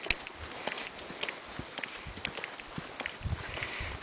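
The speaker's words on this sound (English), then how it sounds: "I don't know if you can hear my footsteps" Footsteps crunch steadily along a quiet, steep hiking trail on the Berry Creek Falls Loop, a close, faint, regular walking rhythm of individual steps with little else around.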